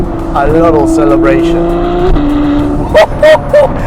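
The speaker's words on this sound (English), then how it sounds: "Every single gear shift is a little celebration" A Novitec Ferrari 812 N-Largo V12 revs loudly up through gear shifts, the engine note climbing and dropping with each change, followed by sharp bursts near the end, with someone talking over the car.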